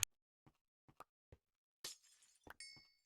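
Glass blocks shattering in a Minecraft modpack (Project Ozone 3) as a whole cluster is vein mined at once, giving a burst of breaking-glass crashes after a few faint isolated clicks, with no voice.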